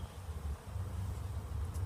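Honey bees buzz around a busy beehive in New Hampshire, a faint, steady low drone swarming close by with no voices over it.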